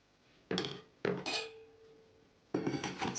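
A knife cuts through apples for an apple pie in three separate bursts of crisp, close slicing, with short quiet gaps between them and a faint clink against the board or dish.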